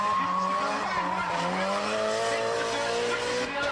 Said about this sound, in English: There were plenty of new entrants too, such as this one via from Brisbane, also using a CA18